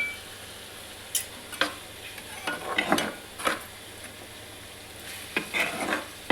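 Ginger garlic paste fries in a pan for mutton keema curry, a low sizzle broken by scattered sharp spatula scrapes and clinks against the pan, close with no talk.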